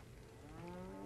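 A cow moos in the Resident Evil 4 video game, one short, low, drawn-out bellow rising slightly in strength toward its end, heard alone and fairly faint.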